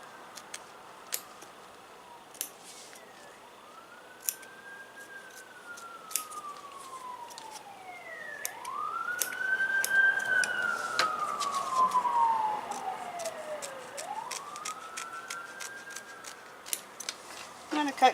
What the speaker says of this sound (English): You gotta cut the outside of the Mickey off.